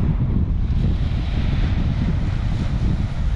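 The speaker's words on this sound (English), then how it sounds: "the wind's picked up and it's moved round" Strong wind buffets the microphone on Trimmingham beach, a steady loud roar with low rumbling gusts that carries on without a break, with surf noise mixed into the blowing.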